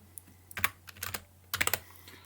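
Computer keyboard typing while a formula is entered in Google Sheets, arriving as two short bursts of close, quiet key clicks separated by a pause, with no voices.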